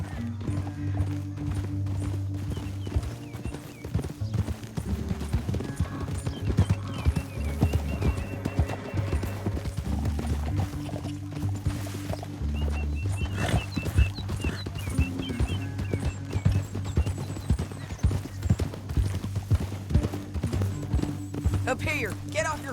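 Rhythmic clip-clop of horse hooves in Red Dead Redemption 2, with a whinny here and there, running throughout under a steady musical drone and low voices of characters talking.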